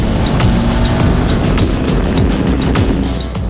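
A Jawa 42 Bobber motorcycle engine revs under a blipping throttle, loud and close, its exhaust note rising and falling over a continuous rumble with rushing wind noise.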